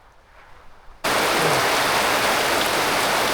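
Rain pouring onto an outdoor cooking place in the rainy season, a faint patter that suddenly swells into a loud, steady hiss of heavy rainfall.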